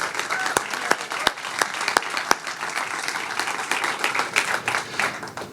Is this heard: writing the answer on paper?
no